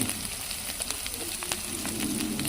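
Garlic and ginger paste spits and crackles in hot oil, a short close burst of sizzling with sharp pops, no voices.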